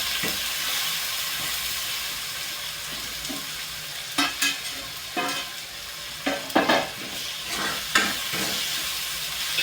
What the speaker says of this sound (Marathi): तिखट मीठ जळू नये म्हणून आता एक वेळ हलवून लगेच आपल्याला गरम पाणी टाकून द्यायचं.